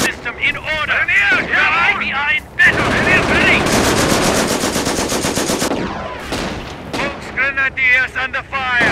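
Machine gun fire in Company of Heroes, with long loud sustained bursts and rapid rattling over battlefield rumble and explosions, and shouted voices in between.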